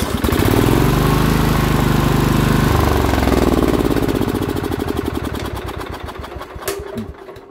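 A Craftsman LT4000 lawn tractor engine running loud and close, settling to a steady chugging idle that slows and fades before shutting off.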